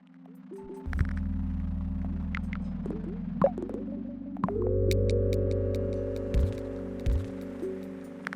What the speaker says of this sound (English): when the game switches to nighttime, we use echo and pitch shifting as a way to differentiate it